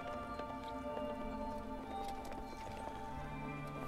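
Several horses ridden at a gallop approach in the Shadow of the Colossus video game, producing a steady patter of hooves over a constant musical drone, with a faint whinny.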